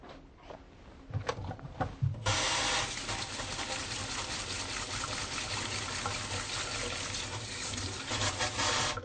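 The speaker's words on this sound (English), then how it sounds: "So first I'm going to wash my hands." Hands are washed under running water during a head to toe medical exam, a steady close gush of tap water that starts after a few light handling knocks and continues unbroken.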